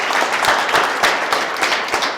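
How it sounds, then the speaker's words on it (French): A crowd at a training camp visit in Thiès, Senegal, claps in steady, dense applause, close and continuous for a couple of seconds. "applaudissez DG Pape Doumbia"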